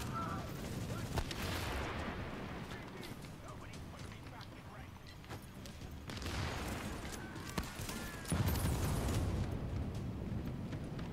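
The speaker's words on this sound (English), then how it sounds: "I've got a grenade guy down here, mate, shooting at me" Enemy gunfire in The Division on a rooftop comm relay mission, a steady barrage of shots with a heavier burst near the end, continuous under a player's voice.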